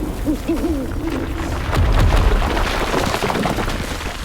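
Owl hooting in the video game Dragon Age: The Veilguard, a few wavering hoots early on, then heavy rumbling game ambience and booms take over.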